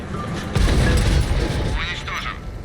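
An IS-7 heavy tank cannon fires a deep, booming shot at an enemy's track in World of Tanks, loud and close, with a rumble that lingers as a voice talks over it.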